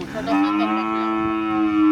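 A cow lets out one long, loud moo close by, a steady droning call lasting about two seconds.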